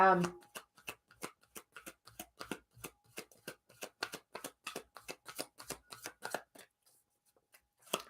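Tarot cards being shuffled by hand in a steady run of crisp, close riffles and slaps for several seconds, then a brief pause, with no talk over it.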